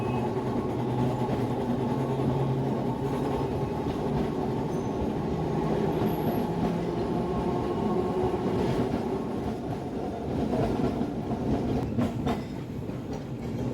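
A Kolkata tram runs along city streets, a steady heavy rolling rumble with rail clatter and occasional wheel squeal, heard from inside the car, loud and unbroken.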